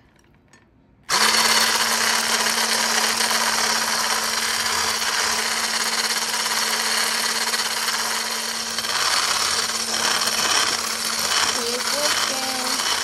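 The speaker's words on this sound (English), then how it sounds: "Let's whisk 3 eggs with sugar first and add in our flour." Eggs are whisked with sugar for sponge batter: after a second of quiet, a loud, steady, motorized whir with a constant hum begins and runs without a break to the end.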